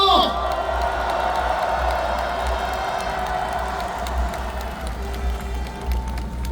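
An outdoor rally crowd at a mass protest applauds and cheers, a broad roar of clapping and voices that carries under amplified speech.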